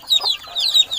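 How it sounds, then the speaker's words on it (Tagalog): Chickens cluck in short, busy bursts nearby, a quick overlapping chatter of hens. "Napakaingay itong mga manok namin."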